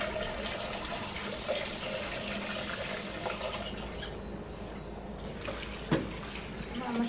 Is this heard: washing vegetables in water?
yes